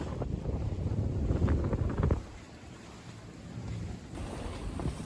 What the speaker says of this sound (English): Oh, it's picked up to 8 knots of wind now.